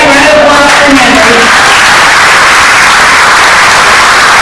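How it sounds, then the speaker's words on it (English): A Rotary club meeting audience applauds a member asked to stand, dense and very loud clapping that fills the room evenly, with brief voices at the start. "Everybody round of applause for Henry."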